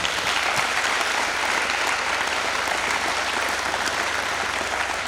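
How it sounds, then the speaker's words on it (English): A school awards night audience applauds its fall activities teams, a dense, steady wash of many hands clapping at close range that runs without a break for the full stretch, with no talking over it. "So I do want to give everyone and our boys a round of applause"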